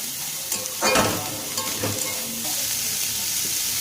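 Lightly crushed onion frying in hot oil in a pan for a Bengali jackfruit chop, a steady close sizzle with a few scraping stirs of a spatula near the start.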